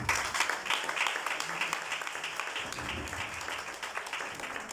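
An audience claps steadily at a gathering, the applause dense and sustained throughout, close and moderately loud, with faint voices mixed underneath.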